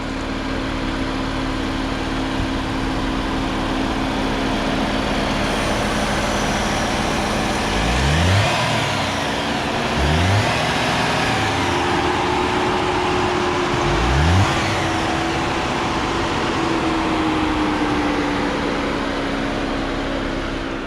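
A 2021 Jeep Wrangler JL Sport with a 2-liter turbocharged four-cylinder engine runs at a steady idle, loud and close, with a few brief rises in revs over a constant hum.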